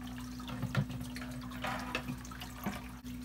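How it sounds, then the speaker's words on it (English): Water dripping into a home reef aquarium tank: soft, irregular drips and trickles over a constant low hum of equipment. "see how it's just dripping in there like that?"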